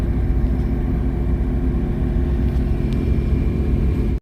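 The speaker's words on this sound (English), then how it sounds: "It's idling, not in gear or anything." A twin-turbo V6 Mustang engine idles out of gear with a loud, steady, close low rumble that holds an even drone throughout, with no voices.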